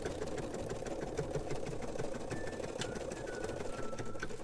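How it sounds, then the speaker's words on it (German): Embroidery machine stitching an in-the-hoop plush toy with a rattle or squeaker, a fast steady mechanical whir close up, running alone throughout. "Offene Seite nach außen und das sticken wir dann auch fest."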